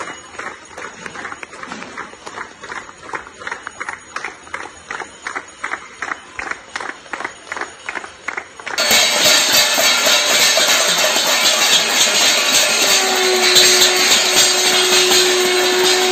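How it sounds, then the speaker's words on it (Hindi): Residents in Indian homes clap, bang metal plates and ring bells in gratitude during the Janata curfew, heard first as rapid rhythmic beating, then as a dense, continuous loud clangor. "लोगों ने अपने घरों में पीएम की अपील के बाद ताली थाली और घंटी से आभार जताया"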